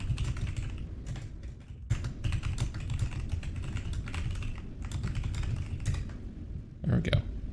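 Steady typing on a computer keyboard, dense rapid key clicks running throughout with brief pauses, fairly close, over a low background hum.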